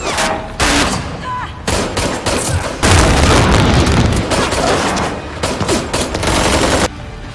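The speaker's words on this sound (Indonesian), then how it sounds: "Lisa membalas menembak." Dense gunfire and explosions from an action film, loud and nearly continuous bursts of shots and booms with abrupt cuts between them, with a voice faintly present beneath.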